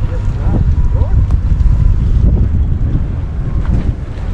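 Steady wind buffets the microphone with a low, rough roar, gusting throughout the short stretch outdoors on the Detroit River.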